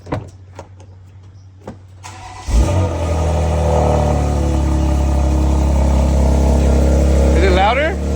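After a few quiet clicks, a 2020 BMW X3 M with the S58 engine, catless downpipes and stock exhaust cranks and fires into a loud, steady, close idle, with a small rise in revs near the end.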